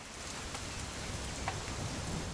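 Steady rain falls in the video game What Remains of Edith Finch, a soft, even hiss of drops with faint scattered patters throughout.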